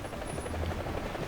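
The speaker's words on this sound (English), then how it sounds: "I hear the other chopper." A helicopter in War Thunder flies with a loud, continuous rotor thump and engine drone, close and steady, with no voices.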